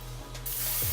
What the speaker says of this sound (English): I can use a spray, right?